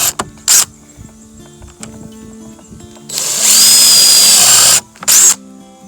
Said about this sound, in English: This is a countersink bit that drills a pilot hole and has that bevel so that the screws sit down inside